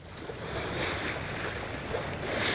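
Ocean waves wash continuously around a sailboat heading back to its home port off Southern California in spring, with steady wind rushing over the microphone and no talking.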